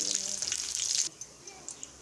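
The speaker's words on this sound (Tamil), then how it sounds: "இதை நல்லா எண்ணெய் சூடான உடனே இதை நான் பொரித்து எடுத்து வச்சுக்க போகிறேன்." Bread pieces frying in hot oil, a bright steady sizzle for about a second that abruptly drops to a faint crackle with scattered pops, close and fairly quiet.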